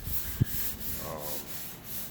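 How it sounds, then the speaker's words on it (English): Soft, steady rubbing of sandpaper against a skiff's polished gel coat edge, close and fairly quiet, with one brief knock near the start. "right now he's sanding out the polished edge"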